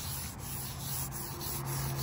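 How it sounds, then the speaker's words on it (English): A paper-like printed veneer on a particle board dresser is scuffed by hand with 220 grit sandpaper, giving a steady, soft rubbing hiss in repeated strokes, close and quiet, with no talk. "Okay, just some quick scuffs. This is 220 grit sandpaper over the top of this."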